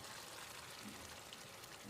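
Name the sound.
pouring ground tomato kurma paste into the pan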